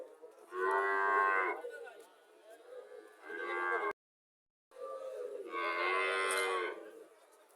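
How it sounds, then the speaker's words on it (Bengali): Friesian cattle at a cow fair market moo loudly and repeatedly, several long drawn-out calls close by with a brief break in the middle, mixed with faint crowd background. "ফিজিয়ান জাতের গরু আজকে যে উন্নত গরুগুলো আছে আমি দেখানোর চেষ্টা করতেছি আপনাদেরকে"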